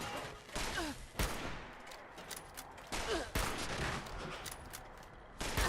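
Rifle gunfire in Fallout 76, several sharp, loud shots cracking out at irregular intervals with brief echoing tails and quieter game ambience between them.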